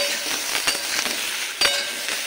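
Vegetables frying in a pan for a Bengali bori (lentil dumpling) vegetable curry give a steady, close hiss of sizzling, broken by a couple of brief clinks.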